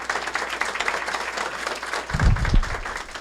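Audience applause at a school culinary arts facility ribbon cutting ceremony, a steady wash of clapping from a crowd with a few louder, closer claps and thumps near the end.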